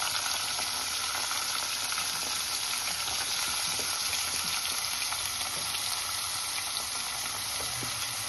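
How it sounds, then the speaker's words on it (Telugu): Eggplant pieces frying in oil in a pan, a steady, even sizzle that holds at low volume throughout with no voices. "వంకాయ ఫ్రై చేసుకున్నామండి"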